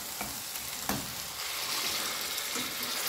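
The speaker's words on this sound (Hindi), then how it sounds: "गोश्त को जो है हम थोड़ा सा फ्राई कर लेंगे मसाले के साथ, अच्छे से भून लेंगे" Mutton pieces frying with masala in a pot on high flame give a dense, loud sizzle with a couple of sharp stirring scrapes early on, continuous and close, no voices.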